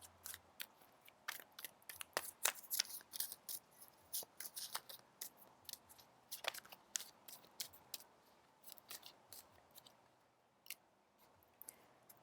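Tarot cards being shuffled and drawn, a long run of quick, crisp papery flicks and riffles in uneven bursts, close and fairly quiet with no talking.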